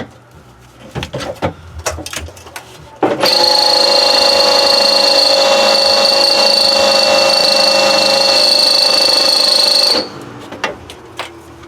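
A power drill whines steadily for about seven seconds, drilling into rusty metal at the shock tower of a 1994 Saab 9000, loud and close, with scattered clicks and knocks before and after.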